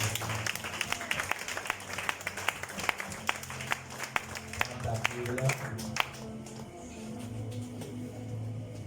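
A church congregation applauding, a steady wash of many hands clapping at moderate distance, with voices murmuring underneath before the clapping thins out toward the end.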